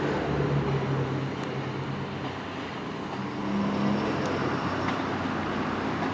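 A lorry passing near the railway at Paignton, a steady broad road rumble with engine drone that swells and eases across several seconds, fairly loud, no voices.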